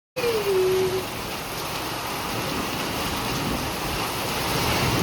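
Loud, continuous downpour roaring close by with thunder and lightning, a thick wash of rain noise that starts abruptly and holds steady, in Talegaon Dabhade.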